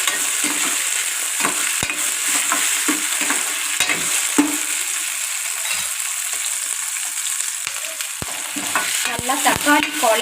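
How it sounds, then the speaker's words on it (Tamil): Tomatoes and onions sautéing in a pan for a dried fish curry: a continuous close sizzle of frying with intermittent scraping and stirring knocks of a spoon against the pan, growing busier toward the end. "தக்காளி போடலாம் தக்காளியை நல்லா வதக்கணும்"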